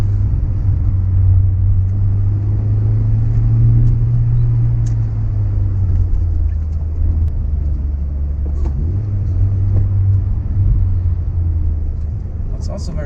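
A Nissan Sunny Coupe GTi drives Swiss mountain roads with a steady, loud low engine drone and road rumble from inside the car, the revs rising and easing slightly, while someone talks over it.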